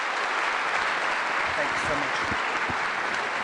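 An audience claps steadily for a speaker at a placemaking conference, a dense, even round of applause with a voice talking over it.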